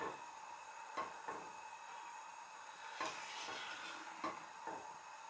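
Scottish tablet, a sugar mixture, boiling gently in a pan while being stirred, giving a steady soft bubbling hiss broken by occasional scrapes and knocks of the spoon against the pot.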